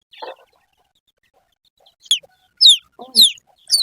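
A hen gives a couple of low clucks close by, mixed with sharp high peeps from chicks in brief repeated bursts.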